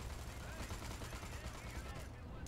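Turret gunfire in the video game Destroy All Humans 2: Reprobed, a faint continuous rattle of rapid shots running throughout without pause.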